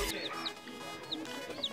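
Short, soft clucks from a hen that has just hatched chicks, a few scattered notes with faint background noise between them.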